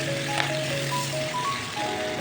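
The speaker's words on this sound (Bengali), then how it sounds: "আর ভালো করে ভাজতে থাকবো।" Mixed vegetables with chilli powder and Kashmiri chilli powder frying in a pan, a steady close sizzle with faint scraping of stirring, no voices.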